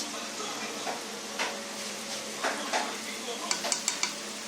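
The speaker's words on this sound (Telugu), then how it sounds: "వేసుకొని ఒకసారి కలుపుకోవాలండి మసాలా అంతా కలిసే విధంగా కలుపుకోవాలి" Masala spices stirred into oil in a pan for stuffed eggplant curry, with soft scraping strokes over a low sizzle and a few sharp metallic utensil taps near the end, close by.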